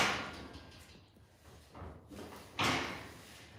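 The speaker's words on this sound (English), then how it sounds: "now he's itching himself on the door." A horse rubs itself against a barn door, producing soft scraping and a few rattling, thumping knocks of the door in a quiet barn, near and moderately faint, with no talk.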